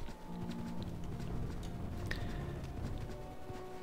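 Horse hooves clop in a steady trotting rhythm in EverQuest 2, moderately close, over a soft ambient background with no talking.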